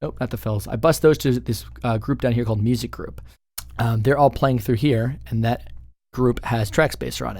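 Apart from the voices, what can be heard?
No everyday noise stands out behind the speech.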